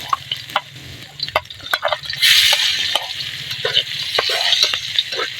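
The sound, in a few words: garlic frying in oil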